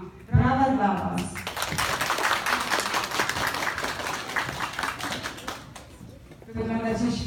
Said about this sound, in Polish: Brawa dla Was.